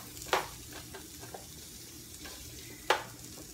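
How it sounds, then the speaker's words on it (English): Chopped onion sautés in oil in a pan with a faint, steady sizzle, broken by a couple of sharp scraping stirs from a utensil. "we're going to go ahead and saute the onion in some oil"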